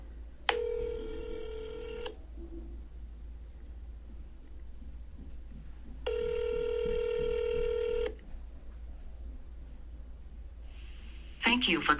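Rapid bursts of telephone dialing tones, two long tone sequences about six seconds apart, as a phone call is placed to a hotel customer service chatbot, with a low background hum and a brief further tone near the end.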